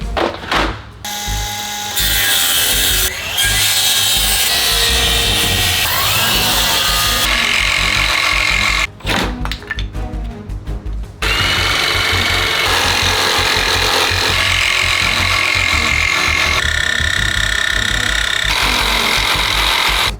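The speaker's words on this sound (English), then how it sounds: "So now it's time to cut this thing. Yo, I haven't used the jigsaw in a long time." A jigsaw cuts through wood for a homemade basketball hoop, a loud steady buzzing rasp that runs for about twenty seconds with a short pause near the middle.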